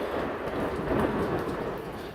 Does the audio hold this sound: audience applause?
no